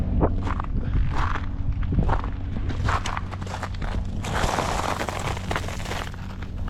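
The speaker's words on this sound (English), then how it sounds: "I could probably walk on this and it sounds like snow." Footsteps crunch across frozen ground coated in ice crystals over clay, a steady series of close, gritty, snow-like crunches on a cold outdoor work site.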